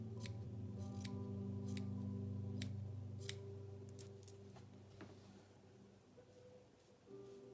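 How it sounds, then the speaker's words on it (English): Scissors snip through thread for mala bead making, giving a series of sharp, close clicks and cuts over a steady low background hum, with no talking. "Of course, the better scissors you have that's good for thread, the better"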